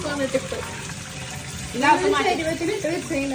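Kitchen tap water running into a sink while water is changed for a pet goldfish tank, a soft continuous splash beneath someone talking throughout.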